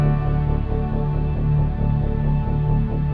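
Keyboard patch for a worship song played with both hands together, a sustained pad-like chord layer with rhythmic low notes underneath, steady and continuous with no talking.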